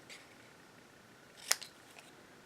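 A single crisp snip of scissors cutting through card stock, sharp and close, alone in a quiet room with only faint rustle around it.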